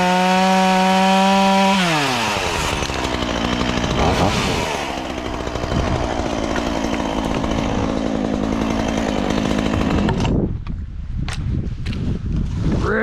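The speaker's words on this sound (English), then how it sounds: "Ripping the chainsaw early this morning" A chainsaw runs near and loud outdoors, revving high, then bogging into a rougher, grinding tone as it cuts through wood for several seconds before the engine cuts off, followed by a few sharp knocks.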